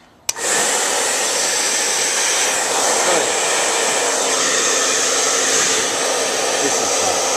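A hair dryer blows dust out of a computer, switching on with a click and then running as a loud, steady whooshing roar that holds at an even level for several seconds.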